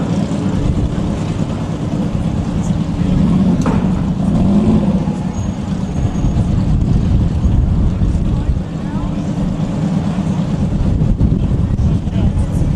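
A Nissan GT-R on a drag-racing pass at the DCT World Cup, running low in the rev range after shifting early, gives a loud, steady broadband engine roar with wind buffeting that holds throughout.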